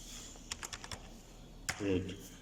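Keyboard keys clatter in a quick burst of about six taps while data is entered into an Excel spreadsheet, followed by a heavier thump and a short low rustle, all soft and close.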